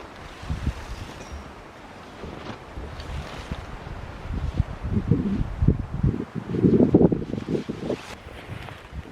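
Gusty wind rumbling and buffeting the microphone at the edge of a deck by a Viking tent, building in strength toward the middle with low flapping bursts.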